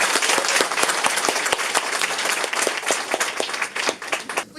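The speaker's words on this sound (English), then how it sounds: "Now could you please join us in a round of applause to honor our healthcare." A round of applause from an audience honoring healthcare workers, dense steady clapping from many hands, close and loud throughout the stretch with no talking.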